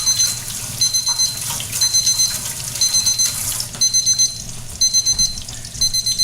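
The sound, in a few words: kitchen timer alarm ringing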